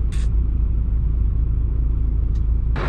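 A truck engine rumbles loud and close, a steady heavy drone with a couple of brief hissing bursts.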